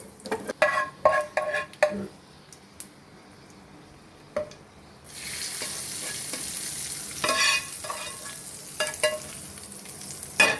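A spoon scrapes and clinks against a pot while hot tempering is mixed into coriander and tomato chutney; sharp scraping taps come first, then a sudden steady sizzle rises and continues under further stirring clatter.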